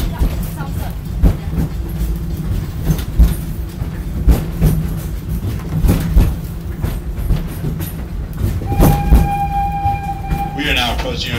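Animal Kingdom safari train running toward Harambe, Africa: a steady rumble and rhythmic rail clatter throughout, with a brief high whistle-like tone near the end and a public-address voice speaking over it.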